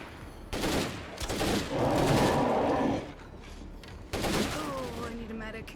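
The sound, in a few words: gunfire in video game State of Decay 2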